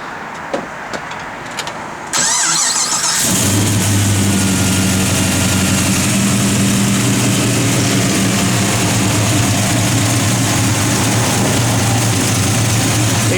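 A 1970 Chevrolet Chevelle SS V8 cranks briefly, then catches and settles into a loud, deep, steady idle rumble that continues close up, preceded by a few quiet clicks.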